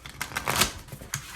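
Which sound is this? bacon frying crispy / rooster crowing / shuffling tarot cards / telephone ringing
shuffling tarot cards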